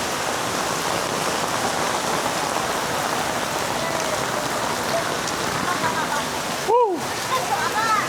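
Heavy rain pours down steadily and loudly in a dense, even hiss, with a brief voice heard near the end.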